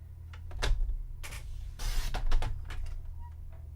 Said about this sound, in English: I like to use my trimmer whenever possible because I cannot cut straight no matter what.